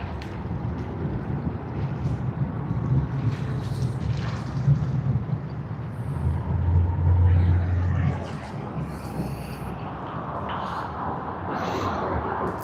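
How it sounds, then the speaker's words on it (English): Malaysia Airlines Airbus A330-300 in from Kuala Lumpur arriving at Sydney Airport, a broad steady roar of jet engines with rushing wind across the whole stretch, swelling heavier midway before easing back. "we have Malaysia Airlines that's come in from Kuala Lumpur on its Airbus A330-300."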